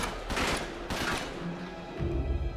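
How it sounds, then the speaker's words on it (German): Bursts of gunfire in the action video game Uncharted 3: Drake's Deception Remastered, two quick volleys of rapid shots followed by a lower rumble, moderately distant in the game mix. "Weil jetzt haben wir doch einiges an Schuss verballert"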